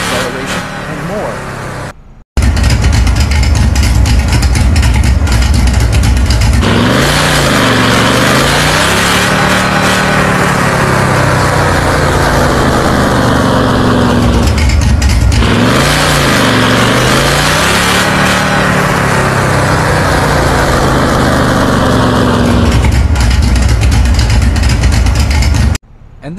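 A car engine in Car Parking Multiplayer 2 revs loudly on a dyno, rising and falling in repeated sweeps beneath continuous narration.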